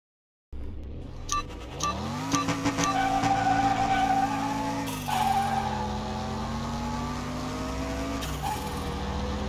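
Race car engines rev loudly in Car Mechanic Simulator 2021, with a Firebird carrying the 446 pack among them, their steady harmonic drone rising in pitch through gear shifts, while brief tire skids break in near the start and again around the middle.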